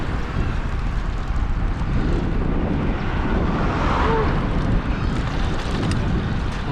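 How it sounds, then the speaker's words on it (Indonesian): Strong wind buffeting the microphone on a long road bike ride: a constant loud, roaring rumble that never lets up, with no voices. "Anginnya lumayan dahsyat"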